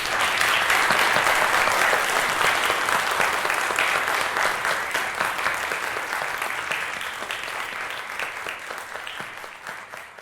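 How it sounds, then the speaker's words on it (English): Sustained audience applause for a guest at a presentation on Franklin and Eleanor Roosevelt, a dense, loud crowd of clapping that holds steady and then gradually tapers off. "Can we have a round of applause for our guest?"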